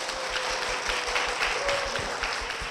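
Applause from a church congregation welcoming a deacon's wife to the stage, a steady wash of clapping filling the room, fairly loud and continuous with faint low thumps underneath.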